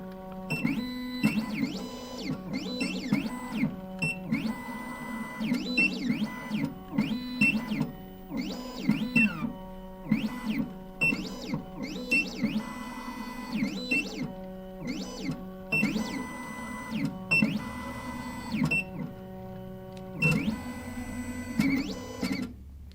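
A Triton PLUS key cutting machine runs its calibration with repeated mechanical whirring and stepping bursts, rhythmic and fairly close, with brief gaps between the motor movements and no talking.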